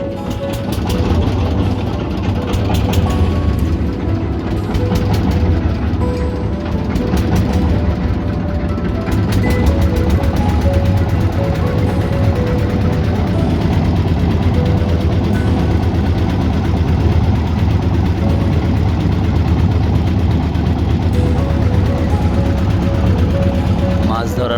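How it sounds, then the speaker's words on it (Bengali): A boat engine runs at a steady idle beside a river at dawn, a loud continuous low rumble with a faint knocking pulse that holds unchanged for the whole stretch. "ইঞ্জিন স্টার্ট হয়ে গেলো"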